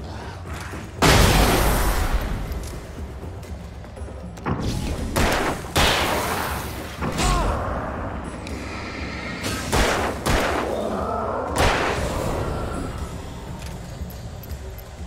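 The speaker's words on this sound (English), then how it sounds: "More flashbangs." Flashbang grenades going off in the video game Alan Wake: a string of sharp, loud blasts and thuds spread over the clip, with rumbling game noise between them.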